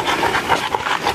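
A dog pants quickly and rhythmically close by, with short breathy puffs repeating steadily.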